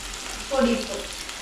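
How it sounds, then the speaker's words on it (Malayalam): Onions sautéing in a pan for Kerala fish curry, a steady close sizzle with a brief louder burst of frying midway as they are stirred, no voices. "ഈ അടുപ്പ് വെച്ചതിന് ശേഷം ഈ സവാള ഒന്ന് വഴറ്റി കൊടുക്കാം."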